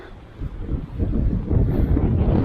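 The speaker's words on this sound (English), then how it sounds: "Whoa, that wind." Strong wind gusts buffet the microphone on an exposed mountain hiking trail near Algonquin Peak in April, with a low roar rising and staying loud after the first second.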